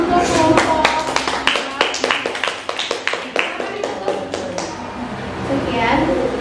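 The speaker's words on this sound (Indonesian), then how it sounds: "kasih aplaus untuk kelompok" Classroom applause for a student group after their presentation: scattered hand claps from several people, steady and uneven for several seconds, then thinning out, with voices talking underneath.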